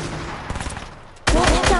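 Fortnite gunfire: a few scattered shots early on, then a loud, dense burst of rapid fire erupting near the end over a busy game soundscape.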